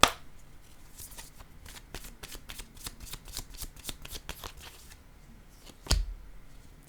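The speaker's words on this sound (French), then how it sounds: "je suis en train d'échapper toutes les cartes" Playing cards are handled and dropped in a rapid run of crisp, papery flicks and slaps, close and fairly loud, ending in one heavier thump as a card lands.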